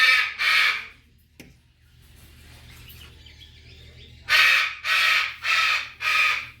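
A loud pet parrot gives harsh, raspy screeching calls nearby: two at the start, a quieter pause, then four bursts in quick succession.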